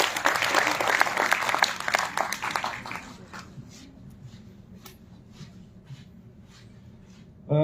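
An audience at a Hindi language festival applauds to welcome a speaker, with loud, dense clapping that thins out after about three seconds into scattered individual claps before a sudden loud sound at the end.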